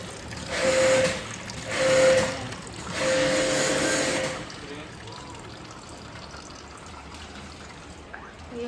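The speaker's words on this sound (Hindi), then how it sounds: "ये यहाँ से अंकल प्रेशर मार रहे हैं और यहाँ का पानी सीधा वहाँ जा रहा है" Water is forced under pressure through a pipe to clear a drain clogged with hair, coming in three loud gushing surges before settling into a quieter, fainter flow.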